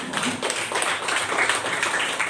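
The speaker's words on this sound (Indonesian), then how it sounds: "Oke, berikan tepuk." Students in a classroom clap together in a steady, dense burst of applause lasting a couple of seconds, close and fairly loud with no talk over it.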